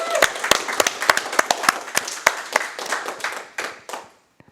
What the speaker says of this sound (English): Can we get a round of applause for Tech?